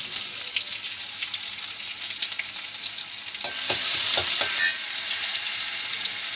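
Onion frying in oil in a pan, a steady bright hiss of sizzling that swells louder midway as the pieces are stirred, with a few soft scraping knocks from the stirring.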